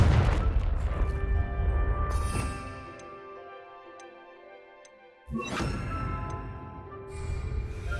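A Confringo fire spell blast in Hogwarts Legacy: a loud booming burst with a bright ringing tail fades into a quieter, tonal lull. A second heavy blast then hits sharply and is followed by sustained rumbling and crackling.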